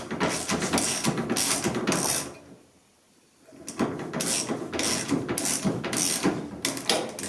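An ALKO Safety anti-theft lock on a trailer being tightened all the way down, with bursts of ratcheting, clicking mechanical sounds close up, a short pause in the middle, then more steady ratchet clicks.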